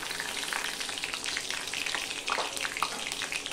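Panch phoron whole spices fry in hot oil in a pan, a continuous close crackling sizzle with brief louder pops, no voices over it.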